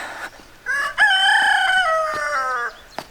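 A rooster crows loudly and close by, one long drawn-out call with a few soft clucks and clicks around it.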